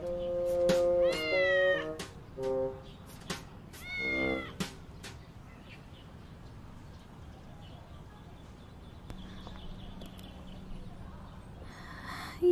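A small cat meows several times, with high chirpy cries early on, followed by a long quiet stretch of faint background noise.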